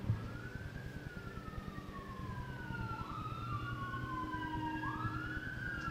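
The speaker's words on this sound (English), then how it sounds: "Let's let the sirens go by. Can't meditate with a siren going on." A siren wails past at a moderate distance, its pitch sweeping up and down in long repeated glides over a steady low traffic rumble.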